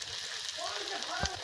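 Onion frying with chili in hot oil gives a steady, close sizzle with a brief louder crackle near the end.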